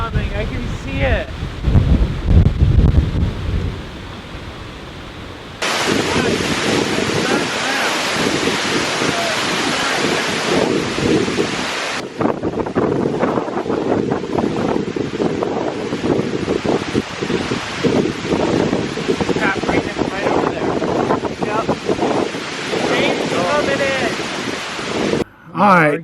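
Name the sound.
storm wind and waves at lakeshore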